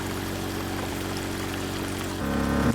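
Water pours steadily in the Drain Sim game during a flood control job, a constant rushing stream that swells louder and heavier near the end, with no talking.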